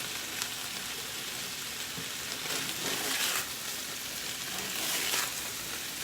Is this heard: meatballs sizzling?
yes